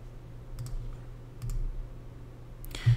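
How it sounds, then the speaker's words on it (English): A computer mouse clicked on an icon: a few sharp, light clicks spaced apart near the microphone in a quiet room, the last slightly louder. "Let's go and click the icon right there."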